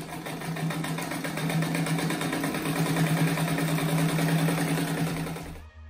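A sewing machine stitching a round rug, running in one continuous, steady whir close by, then stopping abruptly at the end.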